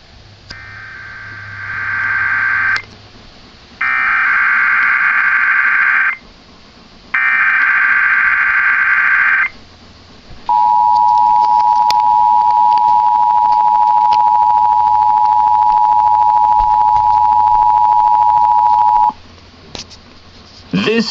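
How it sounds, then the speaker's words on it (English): Emergency Alert System monthly test tones: three loud, evenly spaced two-tone bursts, then a long steady single attention tone lasting about nine seconds, ending in a brief pause and short blip. "This is a coordinated monthly test of the emergency alert system, originating from the EAS local primary station for this area."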